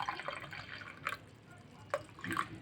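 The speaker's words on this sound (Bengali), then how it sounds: "গরম জল দিচ্ছি।" Hot water is poured for black coffee, giving soft trickling and a few dripping splashes close by, faint, with no talk.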